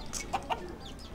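An Aseel rooster gives a few short, close clucks in quick succession inside a breeding cage setup.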